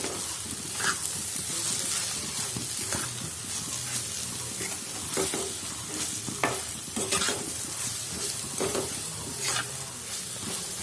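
Carrot halwa frying in a pan while being stirred continuously, a dense sizzle with repeated scraping strokes of the spoon, close up and steady throughout, no voices.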